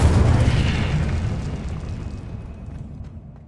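Incendio fire spell cast in the Hogwarts Legacy video game: a loud, close booming blast that decays steadily over a few seconds, standing alone.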